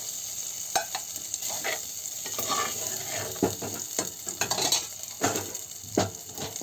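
Tomatoes sautéing in oil in a kadai for a village-style country chicken curry, with steady sizzling and repeated scraping stirs of a spatula against the pan, close up and alone.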